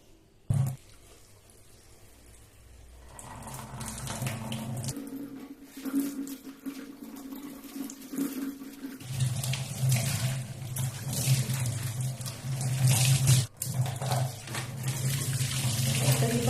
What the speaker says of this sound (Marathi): पहिल्यांदा आपण ही पानं स्वच्छ अशी धुवून घेऊया